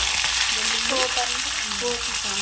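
Mustard seeds, cumin, onion and chilli hitting hot oil, a loud dense hiss and crackle right up close, steady throughout with faint stirring underneath.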